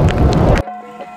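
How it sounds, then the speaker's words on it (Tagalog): Heavy afternoon rain in the mountains near Bontoc, a dense loud rushing burst of downpour that cuts off abruptly after about half a second, leaving a faint quiet tail. "Malakas ang ulan."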